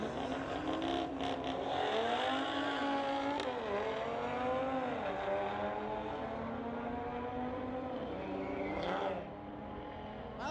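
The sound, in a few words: street legal drag race, 2018 Audi S4 against a 2016 BMW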